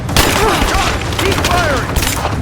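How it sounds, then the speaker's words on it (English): Gunfire in the 2015 game Rise of the Tomb Raider crackles as a dense fusillade of shots and booms, loud and steady throughout, with voices calling out over the shooting. "I'm taking fire!"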